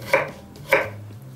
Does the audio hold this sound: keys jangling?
no